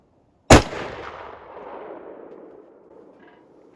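.458 rifle firing a 300-grain Barnes bullet over H4198 powder: a single sharp, loud report followed by a long decaying echo rolling out over a few seconds.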